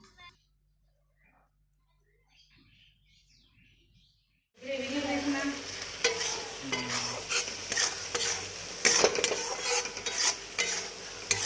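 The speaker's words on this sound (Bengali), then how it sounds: "মশলাটা ভালো করে কষিয়ে নিচ্ছি।" Masala frying in a pan for chicken curry, a loud steady sizzle with stirring scrapes that starts abruptly after a quiet stretch, with a few faint voices in the background.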